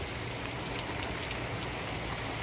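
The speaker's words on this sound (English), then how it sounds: "Look at all that rain falling down." Heavy rain falls during a flooding storm, a dense, unbroken roaring hiss that stays steady throughout with no voices.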